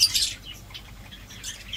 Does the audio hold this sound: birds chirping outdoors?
yes